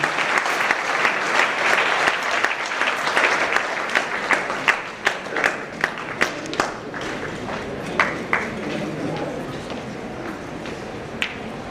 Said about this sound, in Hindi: जोरदार तालियां इन बच्चों के लिए